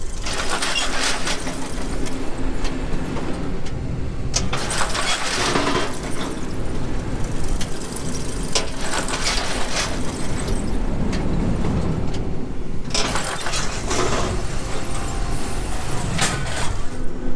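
A farm tractor engine running during planting, a steady loud mechanical drone with rattling and bursts of broadband noise rising and falling as it works.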